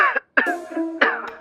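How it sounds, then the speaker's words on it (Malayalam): A person coughs hard in two harsh, raspy bursts about half a second apart, close and fairly loud, with a short silence after the first fit. "വയ്യടെ ഭയങ്കര ചുമ."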